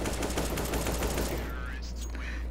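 Counter-Strike match gunfire: a burst of rapid rattling shots for over a second, then quieter game noise with a faint sweeping tone.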